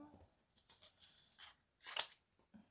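A few quiet snips of scissors, one sharper cut standing out, with soft handling noises between them in a quiet room.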